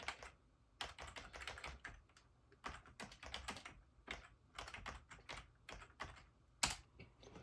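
Quick, uneven bursts of typing on a computer keyboard as a file name is re-entered, near and clear with short pauses between clusters of keystrokes and no talking.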